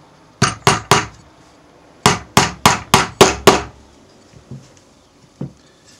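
Hammer blows driving nails into a wooden beehive frame: a quick group of three sharp strikes, a pause, then six evenly spaced strikes, close and loud, followed by a few faint taps.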